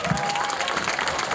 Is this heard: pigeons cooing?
no